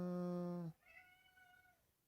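A cat lets out a loud, sustained meow that cuts off abruptly, followed by a fainter, higher trailing meow, heard close in a replayed clip.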